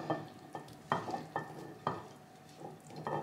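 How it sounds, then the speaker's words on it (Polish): Cooked, drained lentils being stirred together with fried mushrooms and onion in a pan, a series of soft, wet scraping and sizzling strokes with a faint frying hiss underneath. "wrzucam składniki, zaczynamy od soczewicy ugotowanej, odcedzonej"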